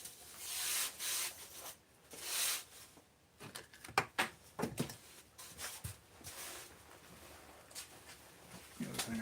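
Hand sanding of a scale model, with repeated close scratchy strokes in irregular bursts, some short rubs and taps between them, and faint talk in the background.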